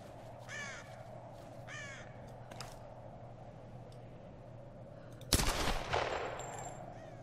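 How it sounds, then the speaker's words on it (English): Crow cawing in Tomb Raider, two or three harsh caws early on, moderately close, followed later by a sudden loud gunshot-like blast and its decaying echo. "Get out of here, stupid bird."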